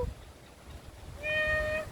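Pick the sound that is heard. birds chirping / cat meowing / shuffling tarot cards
cat meowing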